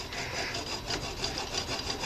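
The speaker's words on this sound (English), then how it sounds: "We want to rub this and really get rubbing on it and put a lot of pressure." A round bar rubbed hard against a bent steel knife blade to straighten it, a steady rasping scrape with rhythmic strokes, close and continuous.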